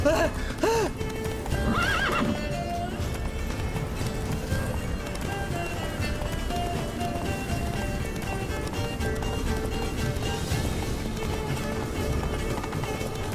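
In The Witcher 3 video game, the horse Roach gallops with rapid, continuous hoofbeats and whinnies loudly near the start, all at close range under a steady game soundscape.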